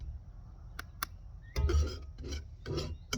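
A metal spatula scrapes across a cast iron pan, with a few sharp isolated ticks and then several rasping scrapes in bursts, close and moderately loud, with no voices.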